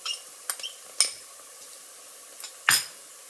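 A spoon stirs garlic-ginger paste in a pan while cooking chana dal, making a few scattered scrapes and metallic clinks over a faint sizzle, with the sharpest scrape near the end.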